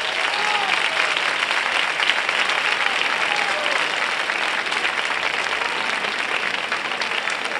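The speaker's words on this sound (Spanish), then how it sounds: "Un fuerte aplauso para ellos." A crowd gives loud, sustained applause for a fandango singer and her guitarist at a moscatel festival in Chipiona, dense even clapping that holds steady throughout, with faint voices underneath.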